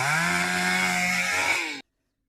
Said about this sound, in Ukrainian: чоловік завів пилку, буде погано чутно